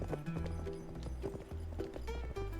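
Rhythmic hoof clip-clops of a horse in the video game Cowboy Life Simulator, steady and mid-distance over looping game music, with a brief whinny-like tone.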